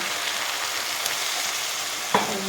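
Potatoes, eggplant, ridge gourd and tomato sautéing with cumin powder and spices in a pan for a small-fish curry: a steady, close frying hiss with one sharp utensil clank near the end.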